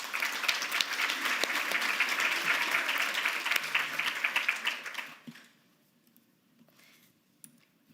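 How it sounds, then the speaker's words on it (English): A crowd claps in a steady round of applause at a city arts summit, dense and even for about five seconds before fading out to near silence with a few stray claps. "So please give them a round of applause."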